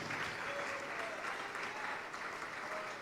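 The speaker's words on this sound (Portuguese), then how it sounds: "Vamos aplaudir mais ao Senhor Jesus." A church congregation applauds steadily, a continuous wash of clapping heard from some distance at low level with no voices over it.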